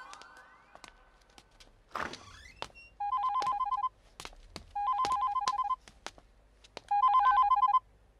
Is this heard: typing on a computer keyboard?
no